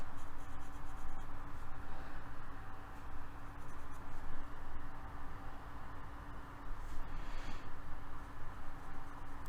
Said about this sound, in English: here you can kind of color in with your pencil